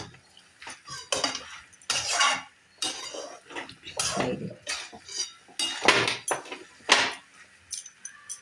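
A spatula stirs vegetable pasta in a wok over a gas flame, clattering and scraping against the metal in irregular close strokes with brief pauses between them.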